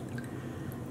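Diluted food-coloring dye is poured for hand-painting yarn, giving a brief, steady liquid trickle with faint drip-like splashes, close and fairly quiet.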